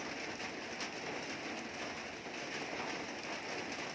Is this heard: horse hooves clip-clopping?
no